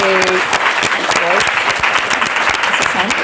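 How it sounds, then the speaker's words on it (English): A warm round of audience applause for a marathon runner joining a panel discussion, loud and steady throughout, with a few voices speaking over the clapping. "Please give a warm round of applause for Sophie Fitt."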